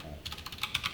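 Code is typed on a computer keyboard in a quick run of about eight close, crisp key clicks.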